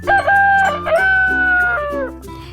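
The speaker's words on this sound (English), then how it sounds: "This is a Gallic Rooster." A Gallic rooster crows loudly and close, a few drawn-out tonal calls in quick succession with clucking-like breaks between them, alone and without talk.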